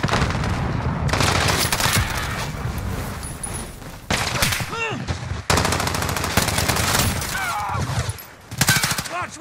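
Loud, dense gunfire from a video game pounds in long sustained bursts of rapid shots, breaking off briefly between volleys, with a little voice chatter underneath.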